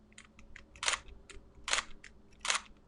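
A DSLR camera shutter fires three times at a steady, fairly quick pace, each a sharp, close mechanical snap, with a few softer clicks between them and no talking.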